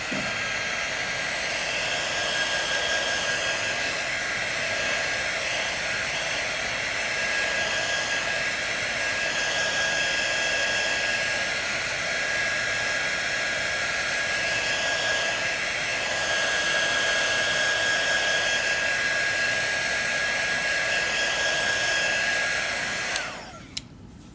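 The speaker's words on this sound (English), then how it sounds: "I'm going to do a quick dry on this." Hair dryer blowing to dry stenciled paint on a napkin, a steady loud whooshing hum with a constant whine that runs unbroken for over twenty seconds before cutting off abruptly.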